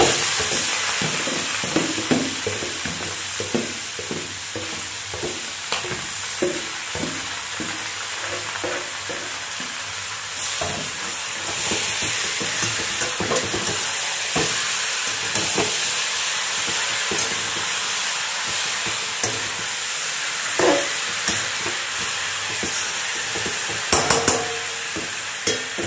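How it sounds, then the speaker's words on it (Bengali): Marinated chicken fries in a pan on a high flame for a chicken curry, producing a loud, continuous sizzle broken by repeated stirring scrapes and clatters throughout. "ফ্লেমটা এখনো হাই আছে, এবারে আমি এই ম্যারিনেট করে রাখা মাংসটাকে দিয়ে দেব।"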